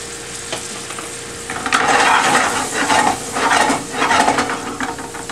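Onion and garlic sizzling in hot melted Earth Balance for a tofu scramble, a loud steady frying hiss that swells with stirring, close and continuous.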